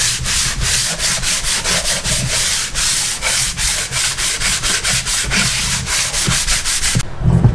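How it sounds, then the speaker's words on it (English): Close, steady back-and-forth rasping of 220 grit sandpaper wrapped around a flat walnut block, lightly sanding the surface of a motorcycle part to strip leftover gasket material, with rapid rhythmic strokes throughout and a brief pause near the end. "I'm going to take some 220 grit sandpaper, wrap it around this nice flat piece of walnut, and we'll lightly sand the surface"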